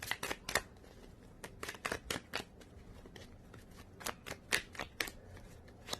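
A tarot card deck being shuffled close up, a quick run of crisp riffling bursts and card snaps that come in uneven clusters, with no one talking.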